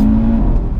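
A 2018 Audi RS3 sedan or BMW M2 coupe sports car engine revs loud and close in a short burst, with a strong steady tone that drops away as it accelerates.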